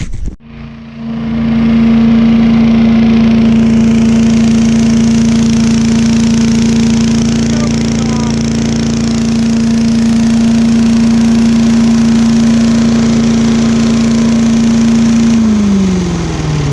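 A Little Wonder blower's small gas engine starts and then runs steadily without choke after maintenance, a loud, close, continuous droning hum that holds a constant speed before cutting off at the end.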